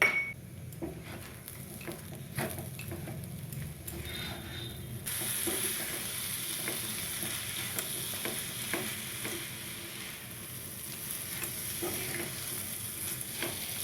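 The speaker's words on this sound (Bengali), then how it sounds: "খুব ভালো করে আমি চিনিটা দিয়ে মিশিয়ে নিচ্ছি এইভাবে সমানে নেড়ে যেতে হবে" A spoon stirs sugar into sweet pulao in a pan, with continuous scraping and clinking against the metal and a soft sizzle that grows brighter halfway through, close and steady with no talk.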